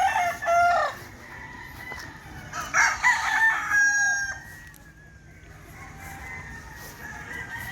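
A pure Blueface fighting rooster crows loudly and close by, with a long drawn-out call that tails off, and a few clucks from the flock around it on a farm in Santa Maria.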